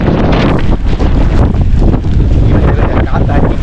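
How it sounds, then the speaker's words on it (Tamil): Strong monsoon wind in the hills at Lonavala, India, buffets the microphone in loud, gusty rumbles, roaring continuously with brief surges. "பயங்கரமான காற்று"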